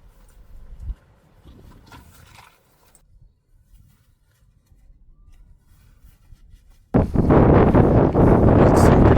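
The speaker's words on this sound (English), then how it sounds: "Windy here." Gusty wind buffets the microphone beside Lake Eucumbene, quiet and intermittent at first, then a loud, sustained roaring rush near the end.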